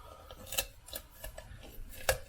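Quiet, repeated snips of kitchen scissors cutting along a raw chicken's backbone, a handful of crunchy clips at an uneven pace, close and faint.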